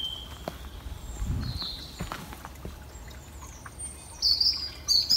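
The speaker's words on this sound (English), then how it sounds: "Listen to the birds singing in the sky." Birds chirp and tweet in short, high calls, brightest near the end, over a low outdoor hum with a few soft footsteps.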